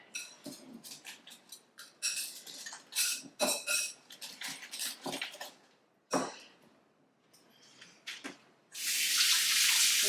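A spoon is rinsed under a kitchen tap, with water splashing and the metal spoon clinking against the sink in irregular close bursts, ending in a steady loud stream of running water.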